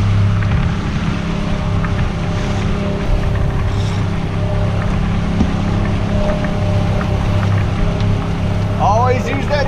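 A fishing boat's motor drones steadily while speed trolling for false albacore, a loud, constant engine hum with water rushing around the hull.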